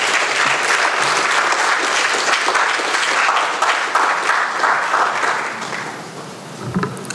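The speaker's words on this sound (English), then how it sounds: "Ladies and gentlemen, with a resounding round of applause, we will welcome the Director of Student Affairs" A crowd at a KNUST graduate students' association event gives a resounding round of applause, loud, steady clapping that fills the room for about six seconds before tapering off.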